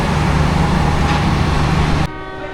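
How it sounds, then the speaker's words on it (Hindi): A train's departure whistle at Rawalpindi station on an early, rainy morning, one loud sustained tonal blast close by that cuts off abruptly, leaving faint station ambience. "फर्स्ट डिपार्चर वैसल हो गया और तकरीबन 7 मिनट लेट है।"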